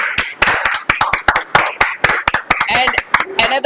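Sharp, uneven handclaps from a small group, close by, mixed with voices talking over them.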